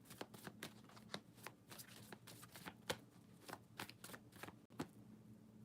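Angel tarot cards being shuffled by hand, a series of soft papery riffles and flicks at an uneven rhythm, close and quiet, with no talking.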